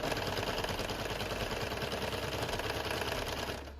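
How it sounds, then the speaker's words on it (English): A sewing machine stitching half-inch fabric straps runs steadily at a fast, even rhythm, close and moderately loud, then slows at the very end. "right now I'm just sewing straps"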